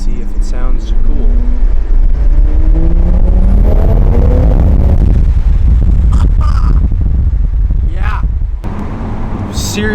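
An Audi RS3 fitted with a carbon fiber intake pulls hard in second gear, its loud engine note climbing through the rev range in a sustained rising roar, then easing off near the end with a brief crackle, recorded from inside the car.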